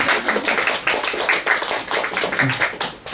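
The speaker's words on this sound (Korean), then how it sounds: "박수 쳐드릴까요?" Steady audience applause fills the room at a live public radio broadcast, dense and continuous clapping at a strong level throughout.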